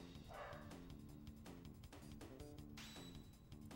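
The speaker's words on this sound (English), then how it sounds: "I hear Tico upstairs barking." A dog barks from upstairs, distant and faint, mostly buried under loud, busy retro video game music that plays throughout.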